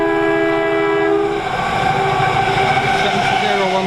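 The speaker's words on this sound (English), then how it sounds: "So 39119 working another delayed service to Euston from Piccadilly." Passenger train, class 390 unit 390119 running a delayed Manchester Piccadilly to Euston service, passes through Tamworth on the West Coast Main Line, loud and close, with a sustained tonal whine and a steady rushing roar throughout.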